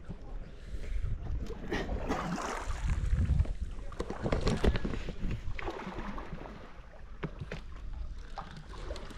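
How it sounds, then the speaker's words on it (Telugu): A coracle ride on river water at Hampi in Kishkinda, with steady broadband water and wind noise and soft splashes and knocks close by throughout, without clear speech. "కొరకల్ రైడ్"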